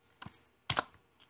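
A few quick keystrokes on a computer keyboard, a soft tap followed by a louder cluster of clicks, close and clear with no talking.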